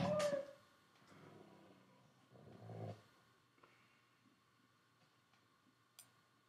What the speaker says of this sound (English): This is a horrible noise for a deer.